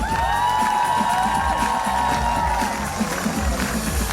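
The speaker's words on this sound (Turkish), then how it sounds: "Alkışlar bizim teşkilatçılarımızga dostlar." Crowd noise from a concert audience at the Crimean Tatar book fair, a steady wash of clapping and cheering with some whoops, while a tonal musical sound carries through.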